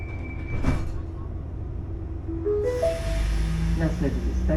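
Slovak-built diesel multiple unit train trundling slowly along a single-track line, heard from inside as a steady rumble with rising whine tones and a chime-like announcement tone, with a voice talking over it.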